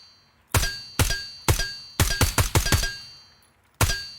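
Gunfire at a target in Ground Branch: sharp, close shots, first spaced single rounds, then a quick cluster, then one last shot, each with a short ringing decay.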